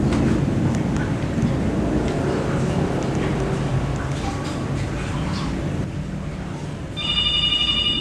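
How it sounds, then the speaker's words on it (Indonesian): A telephone rings with an incoming call on a radio talk show, its bright repeating trill entering near the end over a steady, busy background bed. "Oh, sudah ada telepon masuk."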